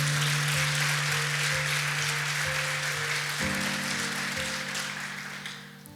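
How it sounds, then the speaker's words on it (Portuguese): A church congregation claps during a sermon, a broad wash of applause under a sustained musical drone, fading gradually toward the end. "Se você crê nisso, aplauda Jesus bem forte."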